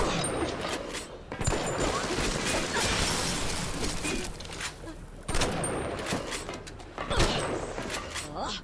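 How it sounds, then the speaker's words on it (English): Shotgun blasts in BioShock Remastered, loud and close, with a few heavy discharges separated by dense, noisy combat chaos and clattering effects. "And shotgun."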